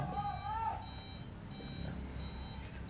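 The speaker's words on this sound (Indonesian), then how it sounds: "Ada forklift apa truk itu?" A forklift or truck sounds faint, distant reversing beeps, a thin repeating electronic tone under quiet background noise with a brief warbling call near the start.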